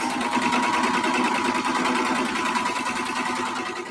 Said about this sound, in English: we're sewing around the second pocket